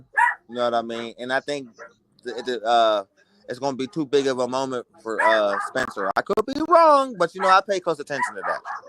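Small chihuahuas bark and yip in the background, partly masked by a man's steady, close commentary talk that dominates throughout.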